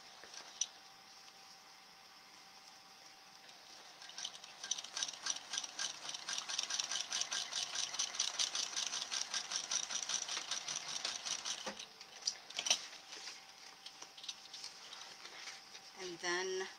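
A sewing machine stitches a 1/4 inch seam on a bag, its rapid needle clatter starting after a few seconds and running steadily for several seconds before stopping, with someone talking quietly.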